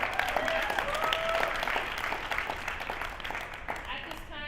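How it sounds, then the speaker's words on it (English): Audience applause after a guest talk, a dense steady clatter of many hands filling the room, with a few brief voices and calls threaded through before it tapers off near the end. "let's give Davion another round of applause"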